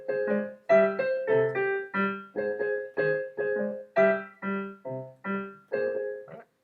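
A piano plays the Super Mario Bros ground theme melody, a bouncy run of short, clearly separated notes and chords repeated in a steady rhythm, close and alone.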